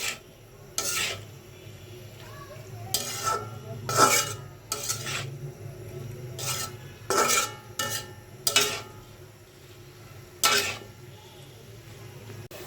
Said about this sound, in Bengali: এখন ভালোভাবে মিশিয়ে নিচ্ছি।